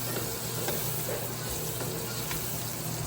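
Spice paste of dried coconut, coriander seeds, ginger-garlic and poppy seeds frying in hot oil for mutton curry, giving a steady close sizzle and hiss with faint stirring clicks throughout.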